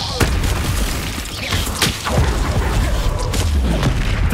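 A fire spell cast in Hogwarts Legacy on PC, heard as a dense mix of booming blasts, whooshes and thuds from combat, loud and continuous for a few seconds without talk.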